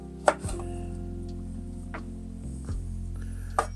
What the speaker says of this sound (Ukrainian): Подрібнюємо.